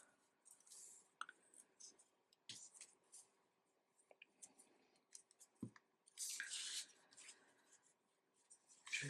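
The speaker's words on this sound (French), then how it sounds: "Je viens là, je coupe." Scissors snipping crochet yarn on a small keychain project: faint close clicks and short snips scattered through a quiet stretch, with soft rustling and handling noises.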